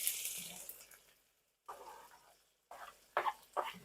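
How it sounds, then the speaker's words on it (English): Onions sautéing in a pan of bacon grease and garlic-infused oil, a soft close sizzle with stirring and scraping that pauses twice into near silence before resuming in short bursts. "let those saute and sweat down a little bit"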